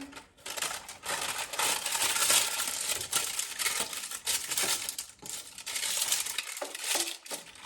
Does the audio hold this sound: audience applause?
no